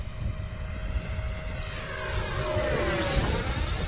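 A small 64 mm FMS Futura electric ducted-fan model jet whooshes past down a runway with a rising, airy whine that swells louder toward the end, heard from a short distance outdoors.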